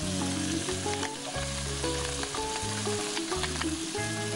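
Capsicum and beans frying for pasta, a dense, loud, continuous sizzle, with a low hum pulsing on and off underneath and faint clinks of stirring.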